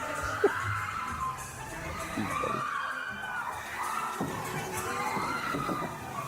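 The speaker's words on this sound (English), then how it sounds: "Why is there so much screaming?" Riders scream and shout on Tiana's Bayou Adventure at Disneyland, a steady crowd roar of overlapping cries and whoops that swells and fades, partly distant and echoing.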